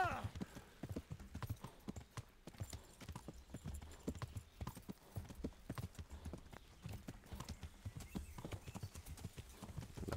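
Hooves of a horse clip-clop steadily in the medieval video game Kingdom Come: Deliverance, a continuous rhythmic walking gait heard close, with faint voices talking over it.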